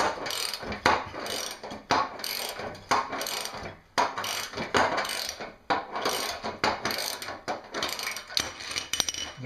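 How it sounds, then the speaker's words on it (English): A nut and washer come off a snowblower skid shoe bolt with a wrench, a close series of repeated ratcheting clicks in short bursts separated by brief pauses. "So the nut comes off, the washer comes off, and repeat for the other bolt."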